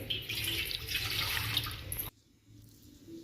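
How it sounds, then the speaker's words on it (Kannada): Water pours steadily from a tap into a glass for about two seconds, then stops abruptly, leaving a quiet room. "ಒಂದು ಗ್ಲಾಸ್ ನೀರು ಹಾಕೋಬಿಟ್ರಿ"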